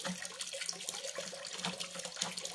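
Water trickles and gurgles weakly through an underfloor heating circuit being filled via the return line, a faint, continuous low-pressure flow heard close up.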